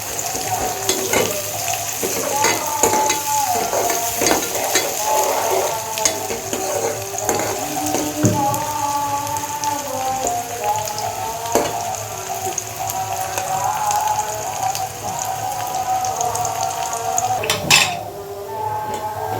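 Browned garlic and onion fry in a pan with a constant, close sizzle, punctuated by scattered clinks and scrapes of a utensil stirring against the metal.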